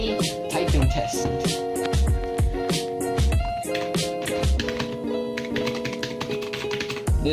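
Individual key presses on a Zhuque X05 mechanical keyboard, crisp close clacks struck one at a time with short gaps, over a steady tonal hum in the background.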